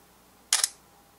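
A Moto X Pure Edition phone camera fires its shutter for a selfie: one short, crisp double click, close and fairly loud against a quiet room.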